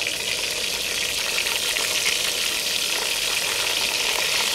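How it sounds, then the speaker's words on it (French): Sliced onions sizzle in a pan with browned pieces of guinea fowl, a loud, steady, dense frying hiss that stays close and even throughout, with no talk. "Maintenant que j'ai mes morceaux de pentade qui sont bien dorés, je vais rajouter les autres ingrédients. Et là, je rajoute mes oignons"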